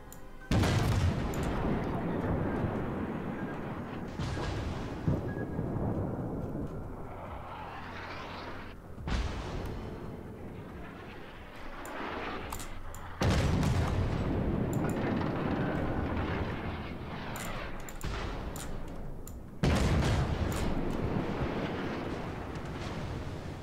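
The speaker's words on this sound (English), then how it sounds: "Right, that's him launching torpedoes." Warship launching torpedoes in World of Warships, a Royal Navy event match: loud booming, rumbling blasts and heavy battle noise recur through the stretch, with sharp bursts every few seconds over a constant roar and no talking.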